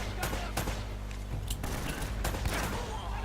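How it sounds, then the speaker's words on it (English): Gunfire in the video game Uncharted cracks out in rapid repeated shots over a dense, loud game soundtrack, with a player's voice faintly present underneath. "I never pay attention to how many bullets I got, I just keep shooting people"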